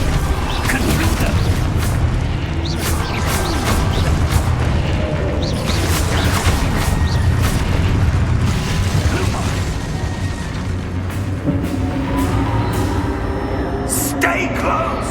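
Loud, dense spell-combat booms and crashes from Hogwarts Legacy's Confringo fire spell, several blasts layered over continuous game music and rumbling effects, with voices shouting incantations in between.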